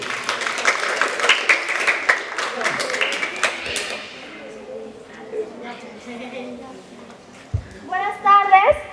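An audience at a school tribute ceremony for a writer claps in a burst of applause, loud rapid clapping fading after a few seconds, followed by a child and other people speaking.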